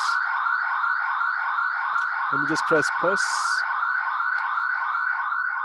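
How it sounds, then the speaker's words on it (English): An alarm siren outside wails continuously in a fast, repeating up-down warble, loud and steady throughout, while someone speaks briefly over it. "There's an alarm going on here."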